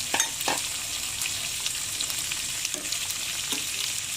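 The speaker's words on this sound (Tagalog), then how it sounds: "Og ato na pong ilunod ang atong repolyo sa atong sinabawan nga karning baka." Cabbage dropped into a pot of simmering beef soup, with a steady bubbling sizzle and a few brief clatters near the start, no voices.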